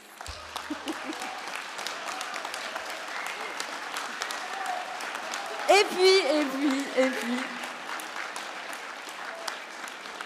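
Audience applause at a mayor's New Year's address in Paris, a sustained bed of clapping that swells midway, with a voice speaking over it.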